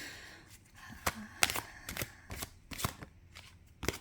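A Lavish Earth tarot card deck being shuffled by hand, a run of crisp riffling snaps and card slaps in irregular bursts, close to the microphone with no speech.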